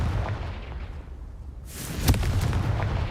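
A Confringo fire spell bursts in Hogwarts Legacy with a sharp, loud blast about halfway through, followed by a crackling rumble over steady low game ambience.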